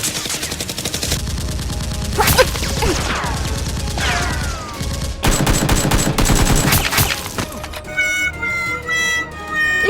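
Nerf guns fire in rapid bursts during a Nerf war, clattering volleys and sharp pops that stop and start over about ten seconds, with some talk and mechanical clicking mixed in.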